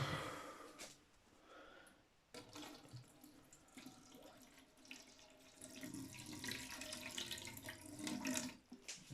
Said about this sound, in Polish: zaleję wodą